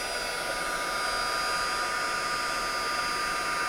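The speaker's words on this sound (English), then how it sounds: "let me grab my heat tool and we'll heat emboss this" A heat tool blows hot air to melt embossing powder on a greeting card, a steady, loud whirring hiss with a constant motor whine that runs unbroken throughout.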